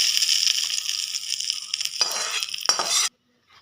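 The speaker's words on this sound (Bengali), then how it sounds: "তারপরে দিয়ে দিলাম সর্ষে। এবার চাটনিটা আমরা ফোড়ন করছি।" Mustard seeds, curry leaves and dry chilli sizzle in hot oil as a chutney tempering, with a steady bright crackling hiss, stirring clinks and scrapes of a utensil on the pan, then sudden silence.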